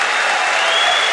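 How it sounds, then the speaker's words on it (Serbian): A dense, loud wall of clapping fills a fight night arena, steady and unbroken from start to finish, with crowd noise mixed in. "molim vas veliki za aplauz za Enesa Bešlegića"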